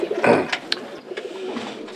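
Decorative-breed pigeons or doves in outdoor aviaries give soft, repeated cooing calls with a few brief chirps over steady background noise.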